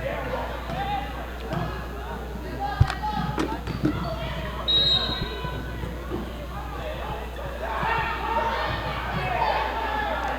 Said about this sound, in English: The crowd is hollering for a tech, but the ref just overlooked